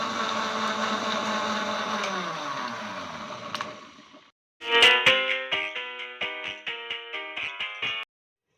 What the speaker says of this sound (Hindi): 1 मिनट के लिए मैं इसको ब्लेंड करूँगी बस